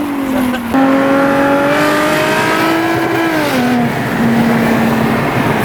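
Car engine held at high, loud revs during a burnout in a Target parking lot, a sustained strained roar that dips and wavers in pitch with tire noise underneath.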